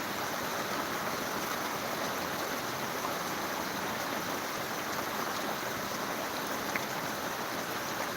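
A steady, dense downpour pounds the ground in Dumlav village, Pardi, South Gujarat during an unseasonal autumn rain, a constant close hiss with no talk.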